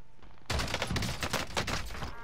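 Rapid video game gunfire, a dense burst of loud, close shots starting abruptly after a short quiet lead-in and continuing steadily to the end.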